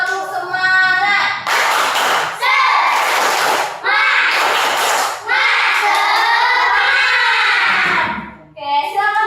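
A class of children does a spirit clapping chant in a primary-school classroom, with loud close rhythmic claps in bursts mixed with their chanting voices, ending with a short break and a final burst.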